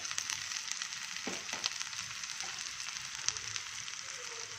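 Grated potato hitting a hot pan and frying with a soft, steady sizzle, a few light clinks and stirring scrapes scattered through the crackle, close and fairly quiet.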